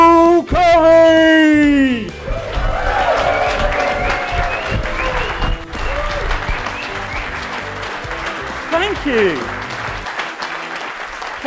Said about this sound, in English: Thank you for that marvellous and completely unprompted applause.